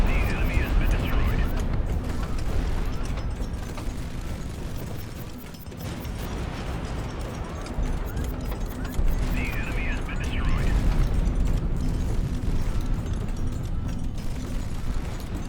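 Missile explosions and heavy mechanical rumble fill a Highfleet air battle, a dense, loud, continuous wash of booms and grinding noise with bright bursts recurring, while a voice talks over it.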